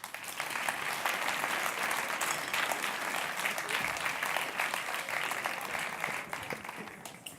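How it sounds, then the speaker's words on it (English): Audience at the European Youth Award Gala 2014 applauding in a steady, dense burst of many hands clapping that holds evenly for several seconds and then eases off slightly at the end. "Please come on up and let's have a big round of applause."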